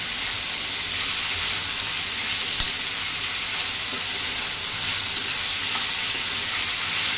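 Vegetables stirred and mixed in hot oil on a tava for a cheesy veg pizza, a steady close sizzle of frying with soft stirring scrapes throughout, no voices.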